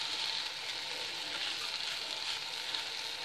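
Rice and peas sizzle steadily in a pan for a pea and sausage risotto, a soft, continuous frying hiss with a small clatter right at the end.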